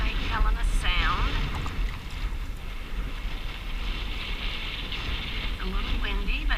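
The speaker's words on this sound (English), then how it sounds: "It's a little windy, but it feels good." Wind on the water at Bay Point, St. Helena Sound, buffets the microphone in a steady gusty roar during kayaking, with a voice talking faintly underneath at moments.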